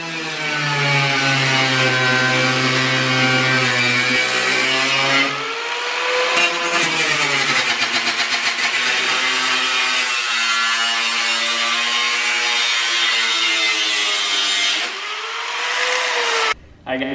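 Loud, sustained whine of a power tool cutting into the metal quarter panels of a Nissan 240SX for a widebody build, its pitch shifting as the blade bites, with a few short pauses and a sudden stop at the end.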